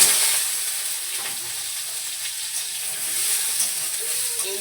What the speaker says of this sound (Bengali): দিয়ে দিচ্ছি পাঁচফোড়ন দিয়ে জলপাইটা